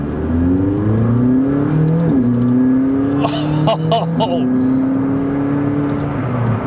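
A McLaren 600LT sports car engine drones and rises through gears from onboard, its pitch climbing, dropping and climbing again, loud and close, with a brief exclaimed voice over it.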